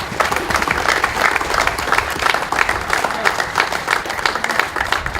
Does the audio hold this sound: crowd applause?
yes